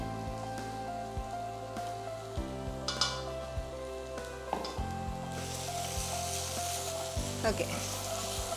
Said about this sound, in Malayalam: ഇത് ഇനി അരപ്പ് നന്നായിട്ട് റോ സ്മെല്ല് പോകുന്ന വരെ ഒന്ന് മൂപ്പിക്കണം.